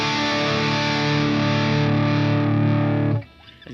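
Electric guitar through a Fender Tone Master Pro running an Orange RV50 amp model with heavy gain, a loud sustained distorted chord ringing steadily for about three seconds before being cut off abruptly.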